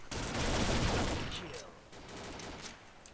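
Automatic G36 rifle fire in the Combat Arms video game rattles in a fast continuous burst, loud at first, then easing off before another shorter stretch of shots.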